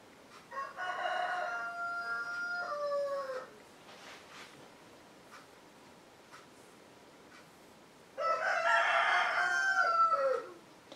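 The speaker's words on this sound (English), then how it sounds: "The roosters are crowing on my front porch because it's raining." Roosters crow on a front porch during rain, two long loud crows: one at the start, then a quiet gap with soft background, then another near the end.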